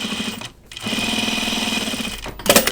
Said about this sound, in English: I'm just double needle top stitching, or single needle top stitching twice because I don't have a double needle top stitch needle.